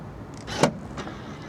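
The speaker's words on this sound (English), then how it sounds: "The boot, when it opens, like so, reveals the Mini boot space." The boot of a MINI Cooper convertible opening, a soft mechanical whirr rising to a single sharp click or thunk, followed by a faint rustle, close by and fairly quiet.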